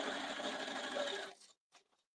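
Home sewing machine stitching a jelly roll quilt topper, a steady close whir for over a second that stops abruptly, followed by silence and a couple of faint handling clicks.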